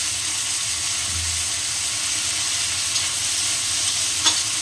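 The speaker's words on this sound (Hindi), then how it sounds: "हम टमाटर को फ्राई कर लेंगे इसमें, और इसी में हम मूली के पत्ते को भी डाल देंगे।" Tomatoes and radish leaves fry in a pan with a steady, close broadband sizzle throughout, a faint scrape or clink near the end and no talking.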